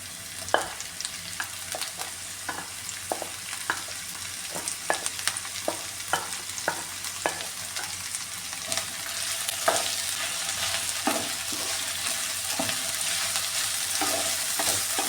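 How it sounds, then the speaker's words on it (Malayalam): Boiled Chinese potato fries with softened onions in a pan, a low steady sizzle broken by frequent ladle taps and scrapes as it is stirred, with no talking. "ഇനി ഇത് നന്നായിട്ടൊന്ന് ഫ്രൈ ആക്കി എടുക്കാം ഇതൊന്ന് ഇളക്കി കൊടുക്കാം"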